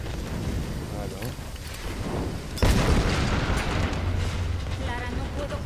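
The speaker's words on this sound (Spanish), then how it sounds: "necesitamos una explosión más grande" A video-game explosion in Tomb Raider erupts as a sudden loud blast partway through, followed by a rumbling tail, with game voices and ambience continuing around it.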